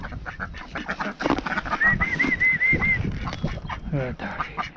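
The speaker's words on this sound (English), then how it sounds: "ducks are coming, look." Ducks gather at an evening feeding beside muddy water, quacking in several close, overlapping calls, with a series of rapid repeated notes in the middle.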